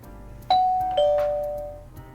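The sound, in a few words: doorbell ringing in a visual novel video game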